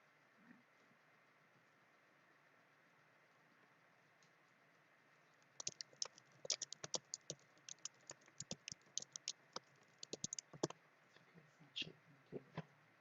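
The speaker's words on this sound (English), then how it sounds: "My typing shaking the table." Quick typing on a computer keyboard that shakes the table, a burst of sharp close clicks in irregular runs after several seconds of faint room hiss, with no talk.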